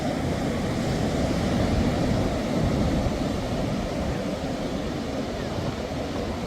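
Sea waves roll in at a beach at low tide where surfers ride, with gusty wind blowing across the microphone; a steady, loud, continuous roar of surf and wind with no pauses throughout.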